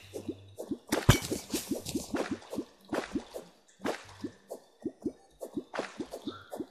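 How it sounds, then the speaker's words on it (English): Water drains in Terraria with a steady run of wet plops and drips, rapid and fairly close, broken by several brighter swishing bursts. "that water is just draining down"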